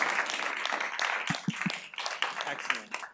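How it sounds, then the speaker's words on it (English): Applause from an audience at a student pitch competition, broad dense clapping running through the whole stretch, with a few low thumps and voices mixed in partway. "Let's give a big round of applause."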